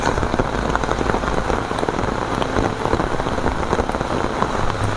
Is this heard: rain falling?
yes